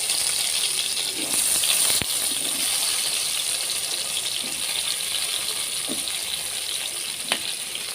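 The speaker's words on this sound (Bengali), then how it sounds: "আমার তেলটা গরম হয়ে এসেছে, আমি বেগুনটা দিয়ে দিচ্ছি" Eggplant hits a small amount of hot oil, a steady bright hiss of frying that holds evenly throughout, with a couple of faint clicks and taps, close by.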